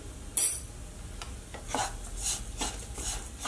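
Coconut filling being stirred in a pan for stuffed pazham pori, giving soft scraping and rubbing strokes of a utensil against the pan, with a sharp clink near the start and the rest quiet and close.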